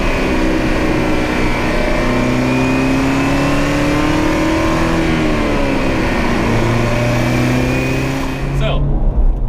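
A manual Chevrolet Camaro Turbo engine revs up and holds a rising, muffled drone, gravelly and fairly loud, then cuts off abruptly near the end.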